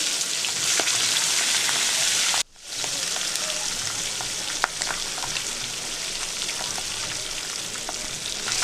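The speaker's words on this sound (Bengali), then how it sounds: "এরপর একটা একটা করে মাছগুলো দিয়ে দেবো তেলের মধ্যে" Catla fish pieces frying in hot oil in a wok make a loud, continuous crackling sizzle, broken once by a brief near-silent gap before the spitting resumes with scattered pops.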